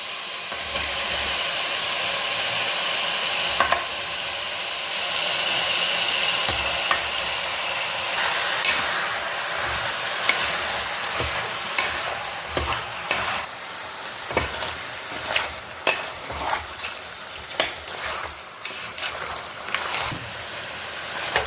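Country chicken frying with ginger and garlic in a hot pan, a loud continuous sizzle with steam hiss, broken by repeated scraping and clanking stirring strokes that grow more frequent toward the end, no talking.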